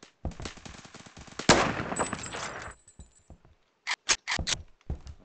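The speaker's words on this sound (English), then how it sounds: "somebody's shooting at me." Gunfire in the first-person shooter Phantom Forces: a rapid burst of automatic shots, then a dense roar of firing, followed by a few separate sharp cracks after a brief quiet, with no talking.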